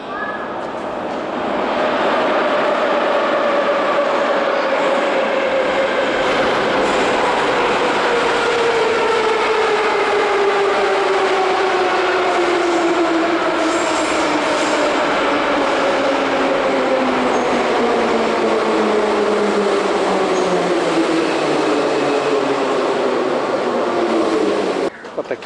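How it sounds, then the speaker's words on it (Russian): A Moscow metro train pulls into Vorobyovy Gory station, which sits above the Moskva River: a loud, sustained rumble of wheels and carriages with an electric motor whine that steadily falls in pitch as the train slows. "Поезд придет оттуда."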